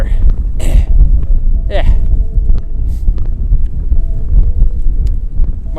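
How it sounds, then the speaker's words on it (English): Strong wind buffets the microphone in a constant low rumble, with brief scraping sounds and a short spoken word. "Got real windy up here."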